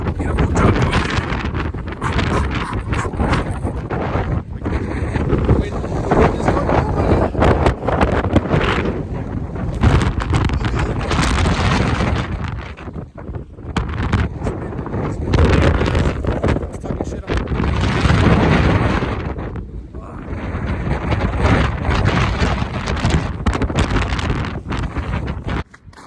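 Strong gusty wind buffets the microphone on a snowy mountain road closed after a snowstorm, a loud, roaring rush that swells and dips in waves, with a person talking at times beneath it.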